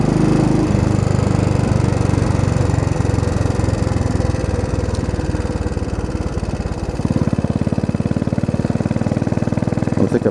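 A Royal Enfield motorcycle engine thumps steadily while riding, a dense continuous low rumble with a slight change in pitch partway through as the load or speed shifts.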